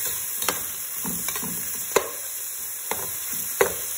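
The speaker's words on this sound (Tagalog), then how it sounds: "Ilagay ko na rin yung bagoong alamang para magisa na rin siya." Vegetables, including squash, sauté in a pan with fermented shrimp paste (bagoong alamang), giving a steady soft sizzle broken by several sharp clacks of a spatula stirring against the pan.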